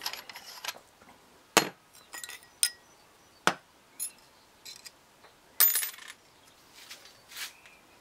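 Metal body of a BM-800 condenser microphone being unscrewed by hand, giving a run of separate sharp metallic clinks and taps with quiet gaps between, close and fairly faint.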